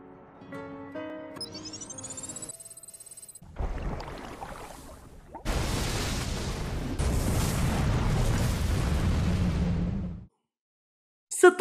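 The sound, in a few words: building explosion in a film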